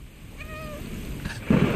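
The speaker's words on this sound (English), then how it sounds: "Did he meow?" A cat in the video game Stray gives a short, clear meow, followed by a louder rumbling burst of game ambience.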